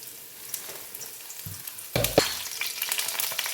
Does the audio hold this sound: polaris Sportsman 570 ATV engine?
no